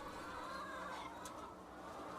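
Young egg-laying hens in battery cages cluck softly in a continuous low murmur of many birds, faint and distant.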